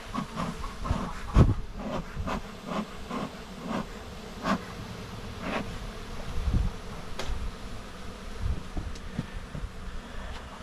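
A steady, dense buzzing of many honeybees swarming close by around an opened hive, with a few sharper knocks and clicks scattered through it.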